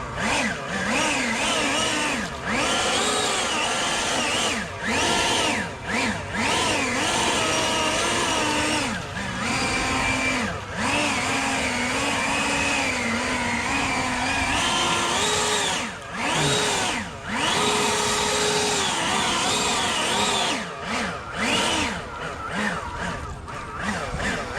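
Blower drives water off wet commercial equipment, a steady loud whining roar that surges and dips repeatedly with brief cutouts, close by and continuous.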